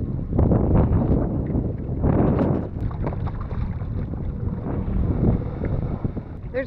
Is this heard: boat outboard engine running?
yes